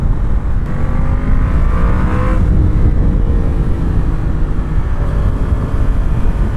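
A Yamaha FZ-10 motorcycle engine accelerates on a ride, loud and close, its pitch rising through the gears with a shift and rise again, over heavy wind rumble.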